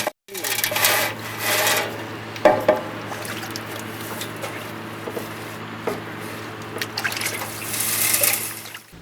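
Water washes down gold dredge concentrates in Alaska, a steady rushing and splashing flow with occasional clunks, running throughout beneath faint voices.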